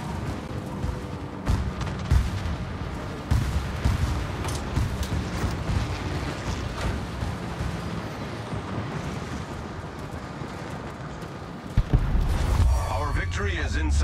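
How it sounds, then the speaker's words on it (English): Heavy naval gunfire booms and rumbles from warships in the World of Warships naval combat game, forming a dense, continuous battle din with a louder blast near the end. "Concentrate fire on the enemy warship."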